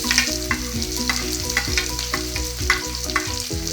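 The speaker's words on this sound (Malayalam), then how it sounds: "നമുക്ക് ഈ അരിഞ്ഞു വെച്ചിരിക്കുന്ന ഉള്ളിയും പച്ചമുളകും ഒന്ന് വഴറ്റിയെടുക്കാം." Chopped onions and green chillies sauté in hot oil with mustard seeds for a banana-flower and green-gram thoran curry, giving a steady close sizzle and frying crackle with regular stirring scrapes in the pan, and no voices.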